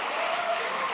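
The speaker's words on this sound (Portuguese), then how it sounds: "Você pode dar um aplauso bem forte ao Messias?" Church congregation at a prophetic worship service applauding loudly for the Messiah, a dense, continuous wash of clapping filling the room.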